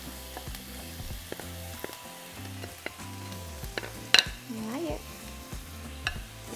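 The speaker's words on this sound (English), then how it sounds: "Once the oil is hot, we're going to add half of a chopped onion and one jalapeno chop." Chopped onion and jalapeno sizzling in hot oil, a soft steady frying hiss under occasional scrapes and clinks of a utensil stirring the pan, faint and close.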